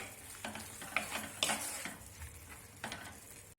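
Fish curry sauce with light soy sauce stirred in a pan, a faint close sizzle with a handful of spoon scrapes and light metallic taps against the pan, no speech.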